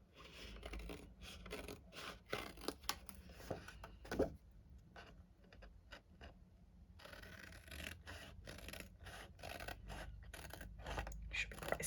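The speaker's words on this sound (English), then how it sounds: "now I'm just going to do a little bit of fussy cutting around it" Scissors fussy-cutting around a stamped card image from a Stampin' Up! vine design, with steady soft snipping and paper rustling throughout, close and quiet, with no talk.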